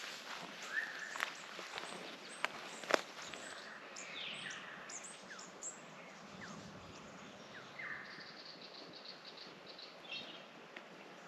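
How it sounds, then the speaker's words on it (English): Faint birds chirp and call in short, scattered bursts from a distance over a steady outdoor hiss, with no talking. "be quiet so we can hear the birds chirping"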